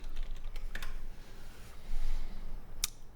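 Computer keyboard typing of a search query, a quick run of light, close key clicks with a sharper click near the end, heard alone in a quiet room.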